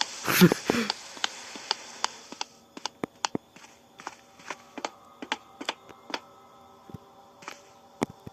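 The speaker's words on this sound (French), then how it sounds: "Écoutez les bruits de pas." Footsteps fall on a wooden floor in the horror video game Boisvert, heard as a string of sharp, evenly spaced clacks over a quiet hum. A louder shuffle and rustle comes first, then the steps continue steadily for several seconds.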